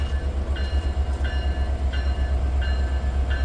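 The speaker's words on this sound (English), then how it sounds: "CPKC holiday train coming here." CPKC holiday train arriving at a rail bridge in Saskatoon, a steady loud low rumble of rolling cars with faint repeating high squeals or whistle-like tones pulsing about every 0.7 seconds, no talk.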